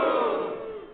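A crowd booing in a loud, sustained, unified wash that fades slightly over about a second, with no speech over it.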